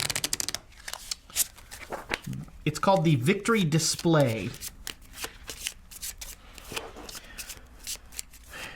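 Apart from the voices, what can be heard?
shuffling Arkham Horror game cards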